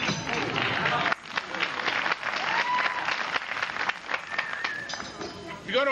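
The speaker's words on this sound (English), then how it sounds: "If you're going to applaud, stay together as a group." Applause and scattered clapping from an audience at an outdoor forest theatre, uneven and broken up, with a performer talking over and between the bursts.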